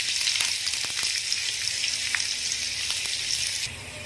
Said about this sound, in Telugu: ఈ మెంతులు కొంచెం ఫ్రై అయిన తర్వాత ఇందులోకి మనం కట్ చేసి పెట్టుకున్న ఆనియన్ అలానే పచ్చిమిర్చి యాడ్ చేసుకొని